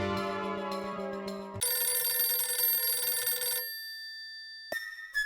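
A telephone rings in a bright electronic ringtone, repeating tones that cut off and then resume briefly near the end, heard alone with no talking.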